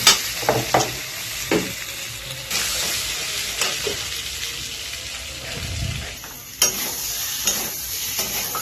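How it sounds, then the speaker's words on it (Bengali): Potatoes sautéing in a pan as they are stirred, a loud continuous sizzle with intermittent scraping and stirring knocks up close, no voices. "আলুগুলো দিয়ে একটু কষাবো।"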